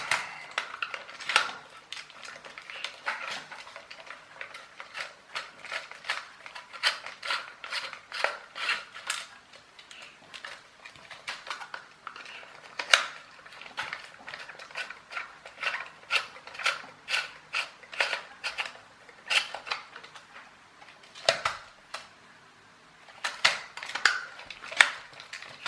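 A small RC jousting knight toy is being taken apart, with a screwdriver removing its screws; sharp, close plastic clicks and taps come in irregular bursts against a quiet background.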